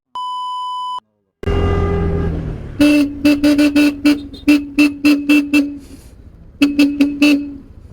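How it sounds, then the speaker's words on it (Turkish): A car horn honks repeatedly in short bursts, loud and close, in traffic beside a motorcycle, after a brief electronic beep and a starting engine rumble. "basacağım kornayı basacağım kornayı"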